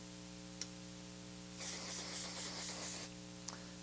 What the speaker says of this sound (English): Making sure we got plenty of hairspray.